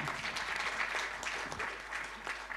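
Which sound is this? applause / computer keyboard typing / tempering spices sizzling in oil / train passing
applause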